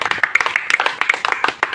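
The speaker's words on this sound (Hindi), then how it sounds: "आज शर्मिला मैडम के लिए जोरदार ताली।" A meeting audience claps loudly and briskly, a dense patter of many hands clapping close by that keeps going without a pause.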